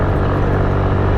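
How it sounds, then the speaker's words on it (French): Helicopters flying over a city produce a loud, continuous, dense rumble of rotor and engine noise, with no voices heard. "Oh là-bas, les hélicos encore, il y a du lourd."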